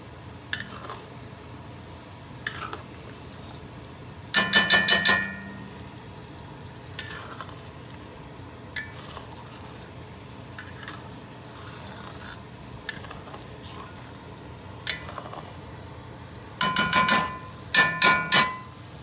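Onions for sausage stuffing fry in a wok with a low continuous sizzle, broken by occasional bursts of rapid metallic scraping and clattering as a utensil stirs them, close up.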